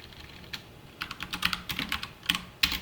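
Someone types SQL on a computer keyboard, a quiet run of irregular key clicks with a few louder clacks, a short pause near the start, then steady tapping.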